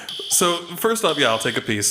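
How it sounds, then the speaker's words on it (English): A fire alarm sounds as a steady high tone throughout, with people talking over it the whole time. "the fire alarm sprinklers are going off"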